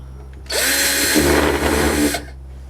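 A power drill spins up loudly for about a second and a half as it drives a screw in a workshop while a sculpture is being made, starting with a rising whine and stopping abruptly, with no talk.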